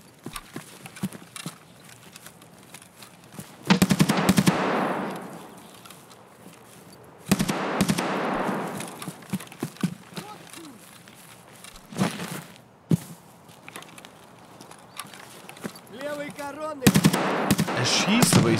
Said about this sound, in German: Er schießt, aber ich sehe ihn nicht.